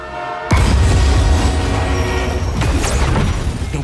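A runaway train with no brakes, heading toward tanker cars in the video game Marvel's Spider-Man 2, bursts in as a loud, sustained, heavy roaring rumble that continues to the end with a brief rising screech partway through.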